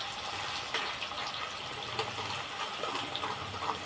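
Cooking oil being poured into a pan for mutton curry, a steady liquid gush heard up close and alone for a few seconds with no talking.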